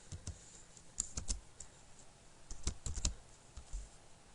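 Quiet, close keystrokes on a computer keyboard as code is typed, arriving in short uneven bursts with brief gaps between them and no talk.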